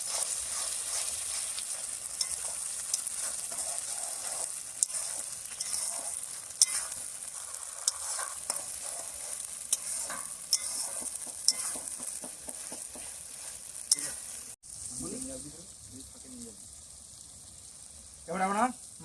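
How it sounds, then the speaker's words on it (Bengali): Ginger garlic paste sizzles and fries in a pan while it is stirred for mutton cooked at a winter night picnic. The frying is close and steady, with a spoon scraping now and then, and a brief voice is heard near the end. "আমরা আদা রসুনের পেস্টটা এবার দিয়ে দেবো। দিয়ে এবার আমরা কষাবো।"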